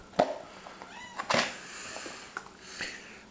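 A cat gives a few short meows, close by, separated by soft rustling and quiet pauses.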